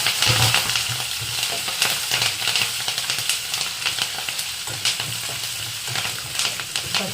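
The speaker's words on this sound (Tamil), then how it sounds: "பச்சை மிளகா கொஞ்சம் ஃப்ரை பண்ணதுக்கப்புறம்" Cut green chillies fry in hot oil in a pan for lemon rice, giving a steady, dense sizzle with crackling pops and light stirring scrapes, close and continuous without any voices.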